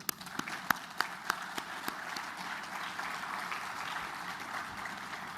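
An audience at an official Fiat car factory event in Oran applauds the Wali of Oran, with a few sharp claps at first, then a sustained, moderately distant wash of clapping.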